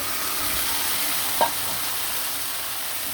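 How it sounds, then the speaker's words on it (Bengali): Boiled radish goes into a frying pan with hilsa fish cooking, a steady low sizzle running throughout with one brief stir or clink of the spatula near the middle, close by and no talking. "সিদ্ধ করে রাখা মূলাগুলো দিয়ে দিলাম"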